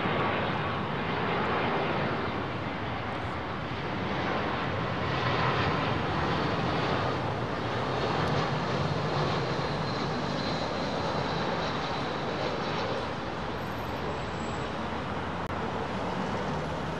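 A jet aircraft at London Heathrow Airport at sunset gives a steady, broad engine roar that stays loud and even for the whole stretch, with no break or clear fade.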